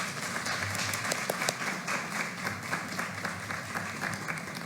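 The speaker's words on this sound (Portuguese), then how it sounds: "Uma salva de palmas." Audience applause at a public hearing in a city council chamber, a soft, continuous patter of many hands clapping with a few sharper claps standing out.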